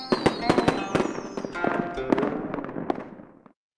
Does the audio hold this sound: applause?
no